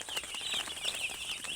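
Three-day-old broiler chicks chirp rapidly in a high-pitched chorus with soft scuffling and fluttering nearby, a short busy burst of peeping close to the listener.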